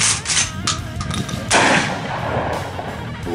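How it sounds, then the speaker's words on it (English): A shotgun fires Sellier & Bellot 12 gauge buckshot at an outdoor range, with two or three loud, close blasts in quick succession, each followed by a ringing echo. "now we're gonna do the S&B 12 gauge buckshot"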